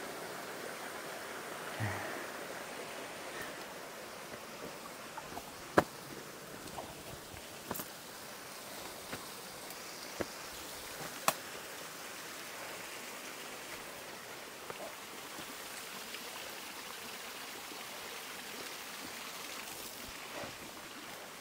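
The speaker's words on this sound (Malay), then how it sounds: "Oh, ada sumber air. Mereka buat pipe." Spring water running steadily from a source piped through a rural forest setting near an old wooden house, a continuous soft wash of flowing water with a few faint knocks and no talk.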